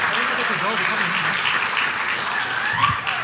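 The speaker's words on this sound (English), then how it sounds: "let's give a round of applause to every women's team that came to join us here tonight" Audience at a city council meeting gives a round of applause for women's sports teams, steady dense clapping filling the room at moderate volume with a few voices and cheers faintly mixed in.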